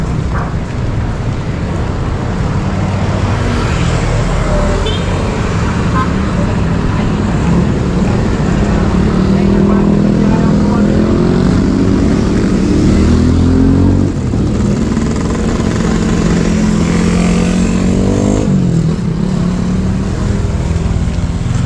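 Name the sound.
motorcycle riding on a road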